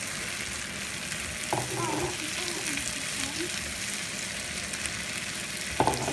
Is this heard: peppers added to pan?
yes